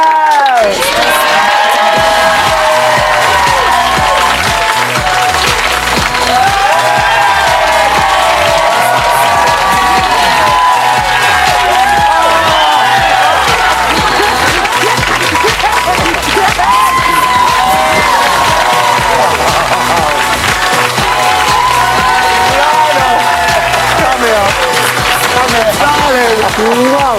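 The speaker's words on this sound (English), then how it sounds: "Here I think another cheer for Lionel Blair" A television studio audience at a 2014 Celebrity Big Brother UK show cheers, whoops and applauds for Lionel Blair, a loud, dense crowd roar sustained throughout with shouts rising over it.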